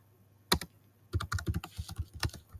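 Computer keyboard keys clicking while HTML is being written: one isolated keystroke, a pause, then a quick irregular run of close, crisp key taps.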